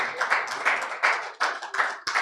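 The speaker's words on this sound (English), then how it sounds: "Let's keep clapping until he gets here." Clapping from an audience at a Nigerian health report launch continues in uneven bursts of several hands, fairly close and without speech.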